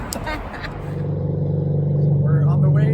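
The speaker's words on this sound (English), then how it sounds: "Exhaust is a little too loud." A Chevrolet Corvette C6 with no mufflers drones loudly on the road, its deep exhaust rumble building steadily after a person talks briefly at the start.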